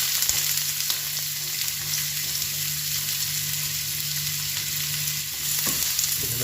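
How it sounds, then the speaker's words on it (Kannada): Chopped onion frying in hot oil in a frying pan, a steady close sizzle and hiss that runs unbroken throughout, with no talk over it. "ಆಯಿಲ್ ಬಿಸಿ ಆಯಿತು ಇವಾಗ ಅದಕ್ಕೆ ಒಂದು ಈರುಳ್ಳಿಯನ್ನು ಸೇರಿಸ್ತಿದ್ದೀನಿ"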